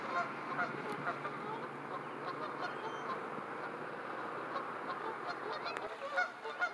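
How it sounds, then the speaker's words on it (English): A goose sitting on her nest gives steady, moderately loud honks and calls at close range over a low background hum, with no one talking. "There's a goose sitting on her nest."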